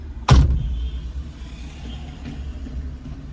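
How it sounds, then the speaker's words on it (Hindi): A single sharp thump as a hand strikes a parked car to trigger the dashcam's parking mode, followed by a faint low rumble and quiet background. "मेरी गाड़ी में एक इम्पैक्ट मैं देता हूँ जैसे"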